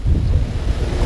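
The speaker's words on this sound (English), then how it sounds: "I think that was just the wind getting me." Wind gusting across open lake water from a boat, buffeting the microphone in a dense low rumble with choppy water beneath, no voices.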